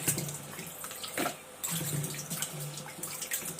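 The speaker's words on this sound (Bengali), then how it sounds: "ভাবছি কয়টা ঢেঁড়স ধুয়ে নিচ্ছি" Tap water runs and splashes while okra is washed by hand in a kitchen, an irregular rushing with bursts and brief pauses as the stream is interrupted, close and moderately loud.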